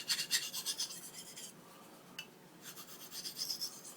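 A blade slides over a very fine honing stone in soft, quiet, rhythmic rasping strokes, with a short pause between passes before the rubbing resumes.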